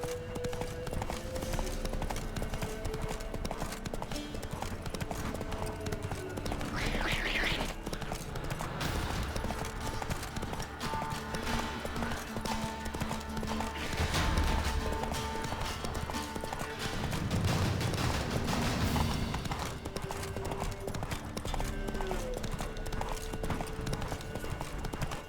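Hooves of Geralt's horse Roach galloping in The Witcher 3: Wild Hunt, a steady fast clip-clop rhythm throughout with a brief whinny, over game music and ambient sounds.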